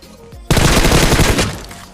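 Gunfire in a battle royale video game breaks out suddenly as a dense, loud burst of rapid automatic shots lasting about a second before fading.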